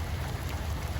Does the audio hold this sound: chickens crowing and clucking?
no